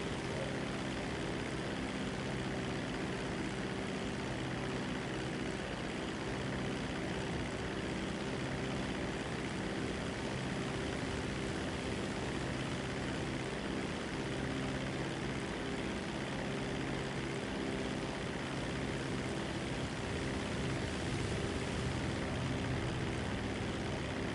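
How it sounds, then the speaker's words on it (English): Dodo propeller plane in GTA 5 droning steadily for a long stretch, an even, constant engine hum with no talk over it. "This Dodo looks like a remote control RC plane."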